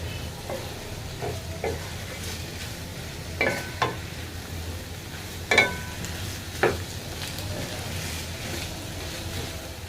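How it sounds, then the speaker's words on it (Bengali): Mixed vegetables with capsicum cooking with spices in a pan, a soft continuous sizzle broken by a few sharp scrapes and clacks of stirring, close and fairly quiet with no talk. "মশলার সাথে আমার সবজিগুলো ভালো মতো মিক্স করা হয়ে গিয়েছে আর অলমোস্ট সবজিটা রান্না হয়েও গিয়েছে"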